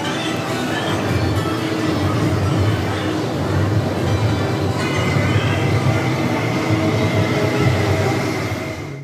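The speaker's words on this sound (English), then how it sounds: "the station master was basically just telling everybody train's running about 5-6 minutes late" A train pulls away from a station platform, its loud, continuous rumble holding steady with faint tonal whines and wheel noise. The sound stays close and dense throughout, with only slight swells.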